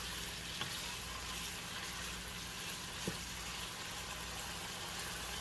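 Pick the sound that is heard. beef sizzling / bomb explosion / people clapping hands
beef sizzling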